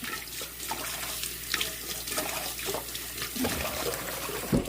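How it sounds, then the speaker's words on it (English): A cooking pot is rinsed under a running kitchen tap: a steady stream of water with irregular splashes and clinks as the pot shifts beneath it. "I'm gonna rinse it off now the best I can and everything. So I can cook in it."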